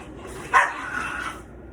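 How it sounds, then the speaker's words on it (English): A pet dog barking during a scuffle with a cat indoors, a single sharp nearby bark followed by a brief whining trail. "My dog and my cat are attacking each other."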